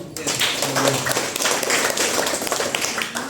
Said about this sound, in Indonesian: tepuk tangan dulu untuk Ibu